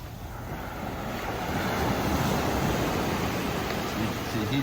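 Surf washing onto the beach at Playa Mismaloya, Mexico, a steady broad roar of breaking waves with wind noise across the microphone, continuous and fairly loud with no clear break between swells.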